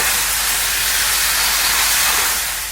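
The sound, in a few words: steak pieces searing in a pan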